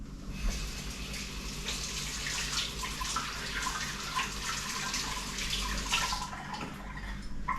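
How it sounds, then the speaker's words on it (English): Kitchen tap running steadily while greasy fingers are rinsed during pork loin preparation, a continuous close splashing hiss that stops abruptly near the end. "gotta rinse my fingers because I'm all greasy"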